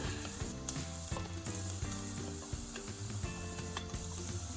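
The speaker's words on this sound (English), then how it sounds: "we are going to add 2 cloves of garlic" Garlic cloves frying in very hot oil for Thai spring rolls give a steady, loud sizzle with a crackling spatter that carries on without break. Faint clicks and stirring noises sound beneath the hiss.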